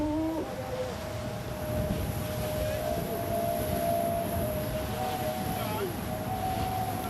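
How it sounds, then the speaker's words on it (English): Racing sailboat under sail from the 52 Super Series off Lanzarote, giving a steady high-pitched singing hum held throughout over rushing water and wind noise. "You can hear the boat literally singing because it's so lit up."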